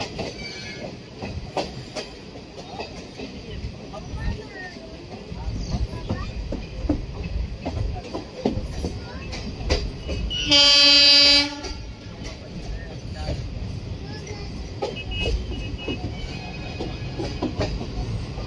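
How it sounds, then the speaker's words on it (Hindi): Train rolling into the Khagaria Junction railway yard: steady rumble and wheel clatter throughout, with a loud horn blast near the middle, heard up close from aboard. "खगड़िया जंक्शन में एंट्री हो चुकी है हमारी ट्रेन की"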